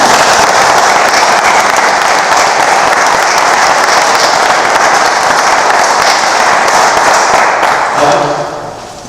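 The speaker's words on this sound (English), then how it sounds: "just give everybody a round of applause" Sustained, loud audience applause fills a city press conference room in Riverton, Utah, steady and dense throughout before tapering off near the end.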